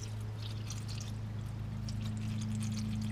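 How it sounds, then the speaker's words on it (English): Pre-mixed 50-50 antifreeze pours steadily through a funnel into the radiator of a Mitsubishi Evolution, a soft continuous liquid rush over a low hum, with no talk. "You just pour that in and bleed the system and you're good to go."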